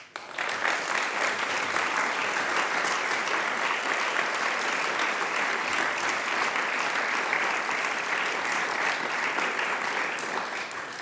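An audience breaks into sustained, loud applause, a dense, even roar of clapping that starts abruptly and holds steady for several seconds, with a faint voice briefly underneath.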